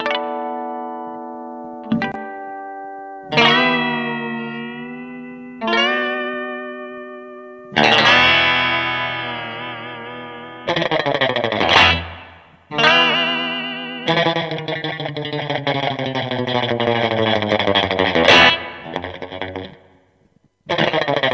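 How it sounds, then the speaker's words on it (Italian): Twangy surf rock electric guitar loop with heavy effects and reverb, a series of loud plucked and sustained lines repeating in bursts with short gaps. "Abbiamo dei guitar loop."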